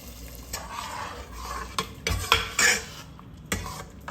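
A spoon stirs sizzling tempering into Andhra-style tomato dal, scraping and clinking against the metal pot in several sharp knocks while a soft frying crackle runs underneath.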